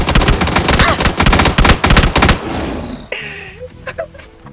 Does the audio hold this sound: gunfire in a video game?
yes